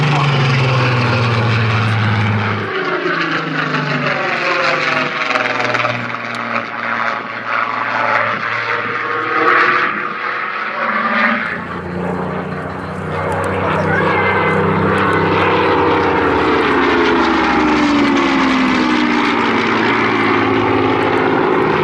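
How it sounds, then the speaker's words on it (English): Twin Pratt & Whitney radial engines of a Dakota propeller plane drone loudly at the Southport Air Show, swelling and shifting in pitch as the aircraft passes and banks, with a commentator talking over them. "Sound of those 2 Pratt & Whitney engines of our Dakota today."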